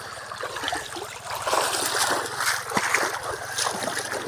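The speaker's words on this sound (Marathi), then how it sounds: "किती पाणी वाहत आहे मित्रांनो." Water gushing from a burst pipe in a farm field, a steady rushing splash with bubbling and gurgling close by, faint voices in the background.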